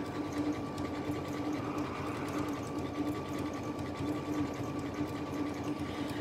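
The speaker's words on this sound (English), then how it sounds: "so now we're just going to be stitching around with that thread, and it's kind of appliquing it down in place" Sewing machine steadily stitching appliqué around fabric on a fall table runner, a continuous even whirring hum with a faint rapid needle rhythm throughout.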